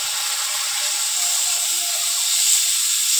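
Watery ground spice paste poured into a hot pan of sautéed spices for a small tangra fish curry with bitter gourd and drumsticks, giving a steady, loud, even sizzling hiss with no voices.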